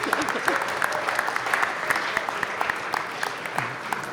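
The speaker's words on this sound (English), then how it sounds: "I want to give them a round of applause" Applause fills a city council chamber: scattered, moderately distant clapping with distinct individual claps, sustained for several seconds.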